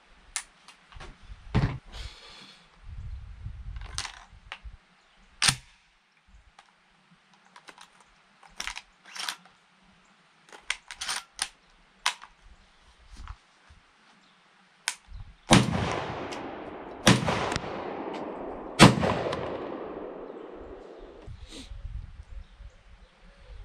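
A Browning Gold 10 shotgun fires shells in a sparse string of sharp, loud reports, interspersed with mechanical clicks and clacks of the action. A denser burst of shots comes late, rising out of quiet gaps.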